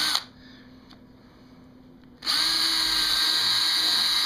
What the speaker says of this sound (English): Take and drill two holes in the back, but you want to drill them down a little bit.